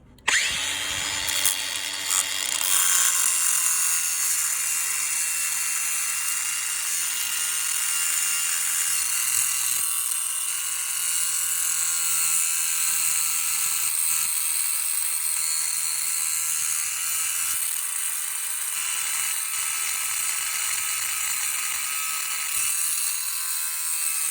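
A loud, continuous high-pitched grinding whine of a power tool cutting through a Honda CBR 125 motorcycle's metal exhaust pipe, steady for the whole stretch with slight shifts in pitch.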